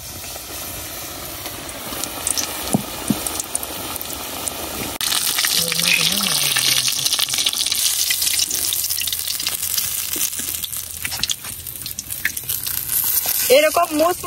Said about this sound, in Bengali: তারপরে তেলে ভাজে নিয়াম।